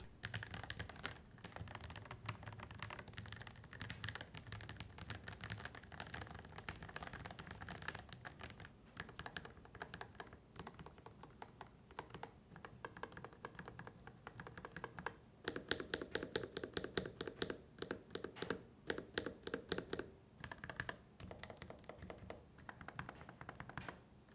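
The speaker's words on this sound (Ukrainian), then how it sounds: "Просто кайфовий звук і взагалі відчуття від користування цією клавіатурою." Typing on a Varmilo Minilo 65 keyboard with linear yellow switches, a close, steady stream of soft keystroke clacks with bursts of faster typing and brief pauses, no voices.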